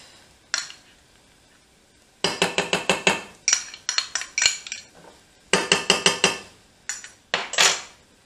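Utensil clinking and scraping against a pan while stirring tomato paste into softened, translucent onion for Turkish red lentil balls, in bursts of quick rhythmic scrapes separated by short pauses, close and clear with no talk.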